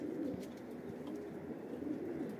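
Pigeons softly cooing in a steady low murmur outdoors at a dovecote, a continuous warbling coo with no voices present.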